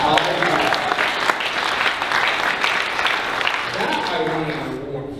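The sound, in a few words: audience applause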